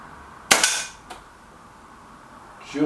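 A single sharp crack from a Reximex air rifle shot, followed by a fainter knock and a short rustle a couple of seconds later.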